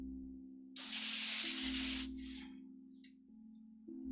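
An airbrush gives a strong, steady hiss for about a second beside a constant low compressor hum, then short fainter puffs follow as the spray is triggered again.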